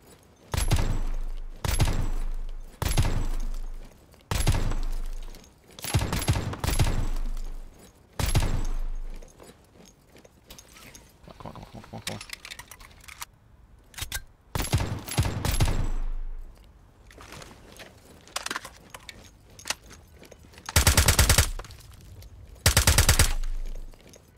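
Gunfire from Zero Hour, a SWAT tactical shooter video game, in loud sharp volleys of shots and rapid bursts, with gaps between clusters and two especially heavy blasts near the end.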